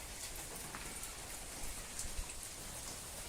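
Steady, fairly faint rainfall spatters evenly on surfaces outdoors in a village, with a few slightly louder drops near the middle.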